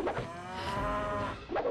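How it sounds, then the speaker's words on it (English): Cattle moo in a Xena: Warrior Princess video game, one drawn-out low bellow rising and falling over about a second, close and clear with no talk. "Why are the cows just stationary on the hill?"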